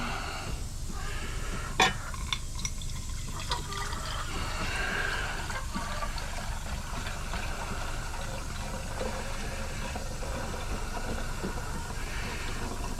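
Liquid poured off settled gold in a temporary stock pot, a steady low trickle and dribble of water running for the whole stretch, with a brief sharp clink near the start and no talking.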